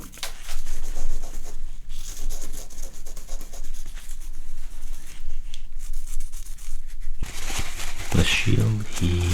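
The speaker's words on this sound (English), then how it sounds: "seal them by burnishing the surface, meaning rubbing it vigorously with smooth stone, bone, or a piece of metal like the back of a spoon" A carved wooden mushroom warrior figure has its surface burnished by vigorous rubbing with a smooth stone, bone or the back of a spoon, giving a steady, dense scraping hiss that grows brighter and more intense near the end.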